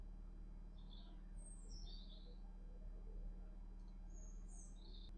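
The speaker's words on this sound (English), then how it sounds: "You listen to all the birds singing." Small birds chirp and tweet in scattered short phrases beside a canal, faint and somewhat distant over a steady low hum and background noise.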